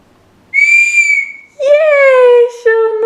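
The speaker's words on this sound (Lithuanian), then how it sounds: "Švilpukas" A toy whistle given as an Easter present is blown three times, close and loud: one long, higher-pitched blast, then two shorter, lower tones in quick succession.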